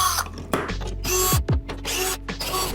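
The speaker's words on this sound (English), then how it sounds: "we're gonna go ahead and put this into the drill" A power drill spinning a Harbor Freight ICON seat caster whirs in short bursts, spinning up and stopping several times, with mechanical rattling between runs.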